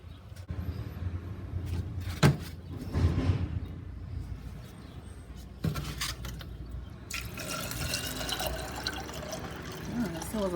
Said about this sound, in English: I'm gonna fill it up with some more water.